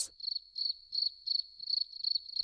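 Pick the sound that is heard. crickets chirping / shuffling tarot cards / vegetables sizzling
crickets chirping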